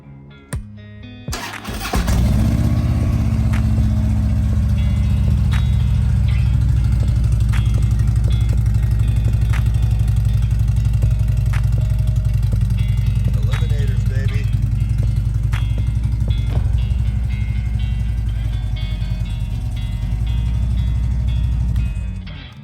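A 2010 Harley-Davidson Street Glide cranks and fires up, settling into a loud, steady, rumbling idle that runs on close by for about twenty seconds.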